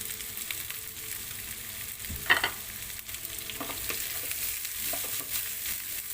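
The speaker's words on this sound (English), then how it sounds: "And we have to saute for 1 minute." Carrots, green chili, ginger and capsicum sauté in a pan, a continuous soft sizzle broken by a sharp utensil clank and a few quieter stirring scrapes.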